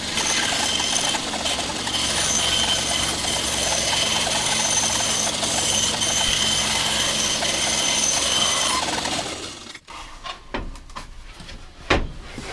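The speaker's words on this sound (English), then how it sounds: "Feed this in first of all before we then start cutting the circles." Power tool cutting wooden circles using a jig for a segmented pyrography clock, a loud continuous whine and roar for about nine seconds, then stopping, followed by a few scattered knocks and clatters.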